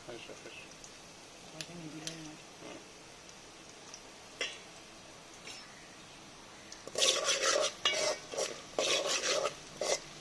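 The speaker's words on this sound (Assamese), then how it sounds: "এতিয়া পিঁয়াজখিনি কালাৰ চেঞ্জ হোৱালৈকে মই ভাজি থাকিম।" Onions frying in a pan for pulao, quiet sparse clinks and scrapes at first, then a loud stretch of vigorous stirring and sizzling near the end; a voice is heard early on.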